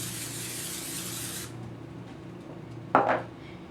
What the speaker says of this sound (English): Then put in some nonstick spray